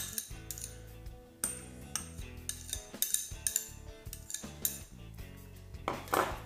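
A spoon clinks and scrapes against a bowl while mixing fishing bait seasoned with pizza seasoning and red colouring, giving irregular metallic knocks and rattles close by, with no talking.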